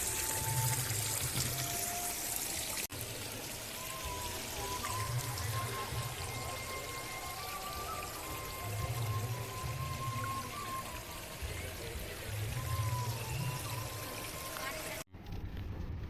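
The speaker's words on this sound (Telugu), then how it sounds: "ఇక్కడ వాటర్ ఫౌంటైన్ చూసారా?" A water fountain at Rashtrapati Nilayam in Hyderabad splashes with a soft, continuous watery wash, joined by faint high chirps and low rumbling in the background.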